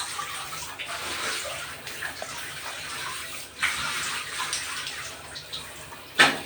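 Shower water runs into a jacuzzi tub at home, a steady hissing spray with a few splashy surges and a sharp burst near the end.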